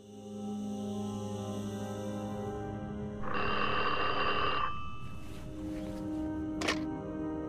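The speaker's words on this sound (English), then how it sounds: "If Leslie White's phone ever rang after midnight, something was seriously wrong" A telephone sound effect rings with a buzzing electronic trill in a loud burst, set within a tonal, droning ambient bed, with no talking.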